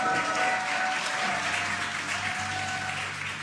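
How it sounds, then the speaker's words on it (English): A crowd cheers and applauds steadily during the SpaceX Dragon capsule's return as its drogue parachutes deploy, a continuous, fairly loud wash of clapping and voices throughout. "You can hear the crowd here."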